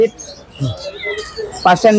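A Persian mix cat gives a couple of short meows near the end, with people talking quietly in the background at a pet market in Katabon, Dhaka.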